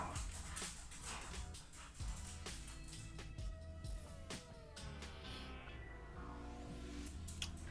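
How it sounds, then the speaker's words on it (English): Pet dogs yip, whimper and bark in the background of a room, their excited noises scattered over several seconds. "my dogs are going crazy in the background"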